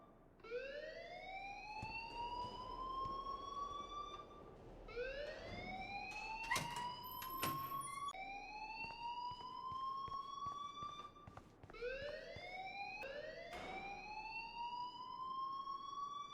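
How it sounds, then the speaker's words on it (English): A school alarm ringing in the video game Life Is Strange, a rising electronic siren wail that repeats in swooping cycles about every two to four seconds, loud and alone without speech. "please turn off that alarm since that's your job"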